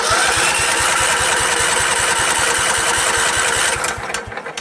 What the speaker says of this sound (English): We are going to have to crank the engine over in order to run some of that fresh fuel through the line.